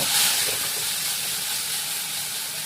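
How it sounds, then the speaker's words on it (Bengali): Spice masala hitting hot oil in a pan, a dense steady sizzle and hiss that fills the whole moment, loud and close, with no talk. "এবার আমি মশলাটা ঢেলে দিচ্ছি।"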